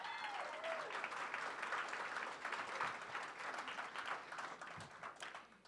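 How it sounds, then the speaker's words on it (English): A startup showcase crowd breaks into applause, dense clapping from many people sustained for several seconds at a moderate, even level without speech. "Can we give a round of applause for PollSpark?"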